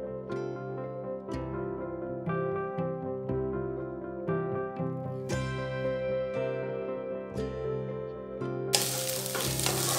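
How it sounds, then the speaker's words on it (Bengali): Eggs frying in oil in a pan for egg fried rice, a continuous sizzle with occasional stirring, heard under steady background music and flaring into a louder hiss at the very end. "ডিমটা ভাজা হয়ে গেছে"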